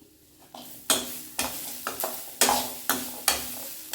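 Grated coconut and chickpea sundal sautéed in a pan, with a series of distinct scraping stirs about every half second over a soft sizzle, close and fairly clear.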